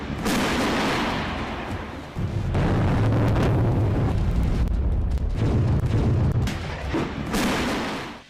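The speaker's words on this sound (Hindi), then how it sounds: "ध्यान से सुन लीजिए इस बारूदी शोर को" Heavy wartime bombardment from the Russia-Ukraine war, with loud, dense booming explosions and rumbling artillery fire rolling continuously for several seconds, a brief dip near the second mark before the barrage resumes at full strength.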